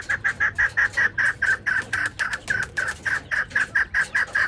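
Partridges calling in an old pigeon coop, a rapid run of about twenty sharp, evenly spaced clucking calls, close and fairly loud, with no talk over them.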